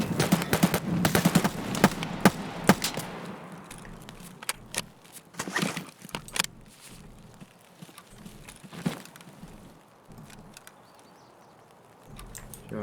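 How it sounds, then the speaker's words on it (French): Gunfire aimed at the player in a video game: a rapid cluster of loud shots at the start, then scattered single cracks and short bursts over a quieter background. "Ça tire vers moi."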